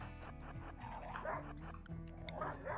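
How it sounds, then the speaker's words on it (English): Dog barking and yipping in the RimWorld colony-survival game, a series of quick barks and whimpers repeating over steady game background sound, mid-loud and close. "Obviously, this is not so much about saving Jay as it is maybe getting a pet dog."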